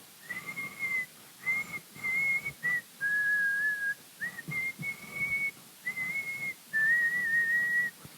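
A person whistles a simple tune in short, clear phrases with brief gaps, close and fairly loud, with no talking.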